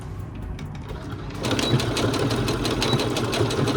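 Domestic sewing machine stitching back and forth over elastic on a ruffle top seam, a steady loud mechanical whir running continuously after a short quieter start.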